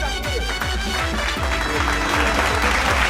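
Applause effect in a Ludo video game after a win: loud, dense synthetic clapping with repeated rhythmic thumps underneath, continuous and close.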